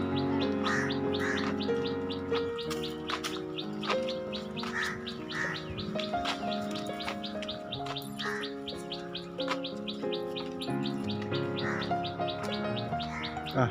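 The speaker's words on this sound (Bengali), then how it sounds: "পাখির আওয়াজগুলো হেভি লাগছে" Dense birdsong fills the scene, many birds chirping and tweeting at once in a steady, overlapping chorus with repeated high calls.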